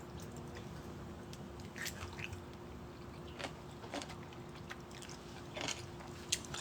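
Crunchy kimchi being bitten and chewed up close, with faint, scattered crisp crunches and soft wet squishes over a quiet background.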